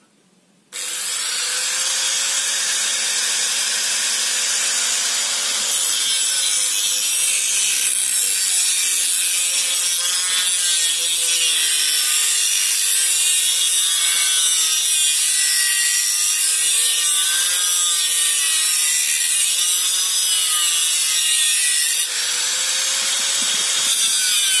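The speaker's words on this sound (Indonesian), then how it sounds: "Kemudian ini sendiri kita lubangi pakai gurinda tadi ini. Ini sekarang kita potong." Angle grinder cutting metal while fabricating a homemade water swivel, a sustained loud whining grind that starts abruptly and holds with slight pitch wavering for over twenty seconds, no speech.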